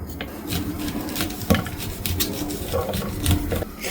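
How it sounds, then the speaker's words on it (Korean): A knife cuts off part of a raw corn cob in a home kitchen, giving close, rough scraping and crunching strokes with a few sharper knocks on the board, repeated irregularly over a few seconds. "옥수수가 상태가 약간 시원찮은 부분이 있어서 이 부분만 잘라주고 전자레인지로 살짝 익힐게요."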